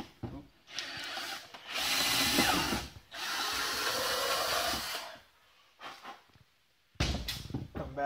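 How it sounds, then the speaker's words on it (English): A power drill bores a hole in the back corner while building an LED sign, two long whining bursts of drilling, then a brief stop and further short runs with small pauses between. "now we're going to drill the hole"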